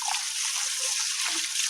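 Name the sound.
washing hands in river water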